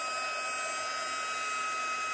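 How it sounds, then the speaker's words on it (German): A hot air blower (Föhn) used for tile work runs steadily and alone, a continuous airy whoosh with a faint whine held at even loudness throughout. "Föhn wieder anschmeißen."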